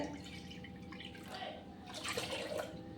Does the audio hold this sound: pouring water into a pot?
yes